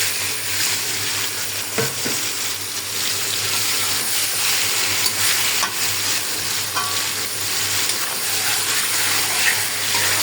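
Spiced chicken sizzles loudly in a hot pan on a gas stove, a steady dense frying hiss with occasional scraping stirs and small clinks throughout.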